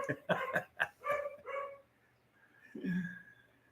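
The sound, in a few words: dog barking at water delivery man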